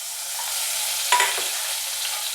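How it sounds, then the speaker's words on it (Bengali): Peanuts frying in hot oil with five-spice seeds, a steady soft sizzle with a brief stir or clink partway through, close and without talk. "এবার একটু বাদাম ভেজে নেবো এতে"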